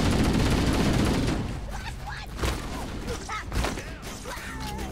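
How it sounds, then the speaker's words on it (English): Gunfire rattles in Halo: CE Anniversary, opening with a loud dense burst of rapid shots that fades into scattered, shorter volleys and single cracks. "Ow, who's shooting at the back?"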